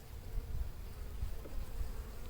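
Honey bees hum steadily in a low, dense drone at an opened hive, close and continuous with no pauses and no voices.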